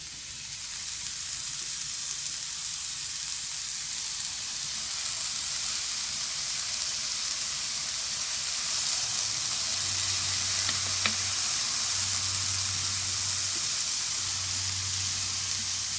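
Soy sauce sizzles in a frying pan of mushrooms and chickpeas for a vegan lettuce wrap filling, a steady bright hiss throughout with a low rumbling hum appearing near the end, no voices.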